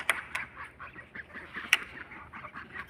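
Farm fowl call near an egg-collecting spot, a string of short nasal honks and squawks at irregular intervals, one louder peak in the middle, with a low rumbling background.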